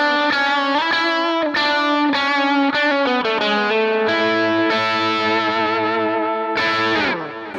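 Electric guitar through a Kemper praise-and-worship rig with an effect switched on, distorted with chorus and echo, played as close chord stabs and then a sustained ringing chord that fades at the end.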